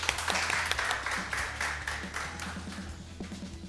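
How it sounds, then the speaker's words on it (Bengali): Loud, dense applause rings out for a team on a TV game show, a steady wash of many hands clapping together for several seconds before easing off slightly. "জোরে হাততালি"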